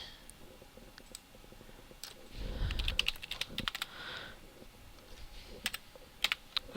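Keys clatter on a computer keyboard in irregular bursts of close clicks and taps, some quick runs and some single strokes, over a quiet room with no talking.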